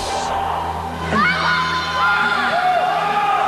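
A crowd at a Christian youth rally screams and cheers loudly, with whoops and shouted voices rising over a sustained roar.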